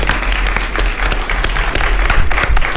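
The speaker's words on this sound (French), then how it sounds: "on se quitte donc sur un tonnerre d'applaudissements pour encourager nos jeunes ambassadeurs" Loud, dense applause from an audience cheering young Nigerien robotics ambassadors at the close of a TV youth program, a sustained wash of clapping with no speech.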